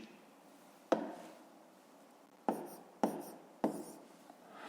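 Numbers being written by hand, heard as four sharp taps of pen or chalk landing on the surface, irregularly spaced, close and fairly quiet, with faint scratching between them.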